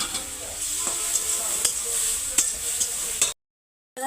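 Meat and potatoes sauté with onion paste, turmeric, chilli, tomato and ginger-garlic, giving a steady close sizzle broken by sharp scraping clicks of stirring, then cutting to silence at the end.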